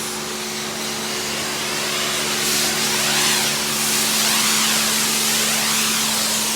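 Wax sprays in a loud, hissing rush from a self-service motorhome wash wand, with steady tonal pump hum underneath, building in strength midway and sustained throughout.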